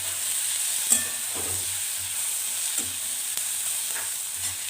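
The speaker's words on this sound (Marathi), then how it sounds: "तर हे पण आपण तेलामध्ये दोन मिनटं भाजून घेऊ" Sesame seeds and masala roast in hot oil in a pan for a cashew curry, giving a soft steady sizzle broken by a few sharp spoon clinks and stirring scrapes, close up.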